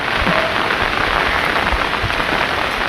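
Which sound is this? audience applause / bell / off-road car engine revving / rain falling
rain falling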